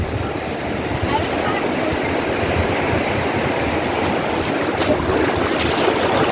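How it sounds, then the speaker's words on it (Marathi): Motor boat running on the sea off Malvan: a steady, close engine drone with wind and water rush throughout, constant and fairly loud. "ही आमची बोट आहे इकडे"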